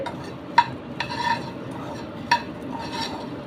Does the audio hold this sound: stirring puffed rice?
yes